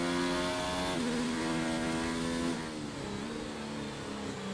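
F1 car engine in a racing video game at a Brazilian Grand Prix, loud and continuous, revving high then dropping in pitch through several quick downshifts, each gear change a sharp step down.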